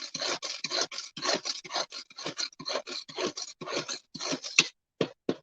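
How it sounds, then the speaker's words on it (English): A small manual Tupperware pull-cord food chopper chops garlic cloves, giving a rapid series of rough, scratchy whirring bursts, fairly close, with a few sharper isolated strokes at the end. "This is my little food chopping Tupperware little brilliant thing,"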